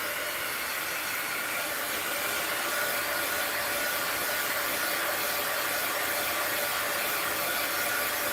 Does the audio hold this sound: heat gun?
yes